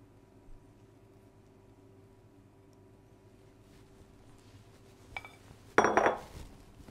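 Chocolate and cocoa butter pieces tipped into a pouring jug, heard as a clattering, rattling rush near the end after a mostly quiet stretch with a few faint clinks.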